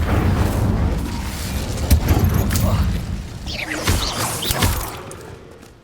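The Incendio fire spell cast in the Hogwarts Legacy video game, a burst of whooshing flame with deep booms and thuds, loud and close, then fading out toward the end.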